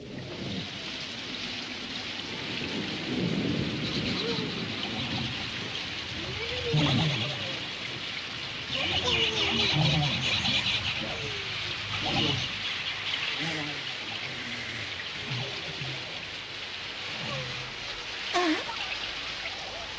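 Steady rain hisses down across a cartoon scene, a dense continuous patter with faint birdlike chirps and voices speaking over it.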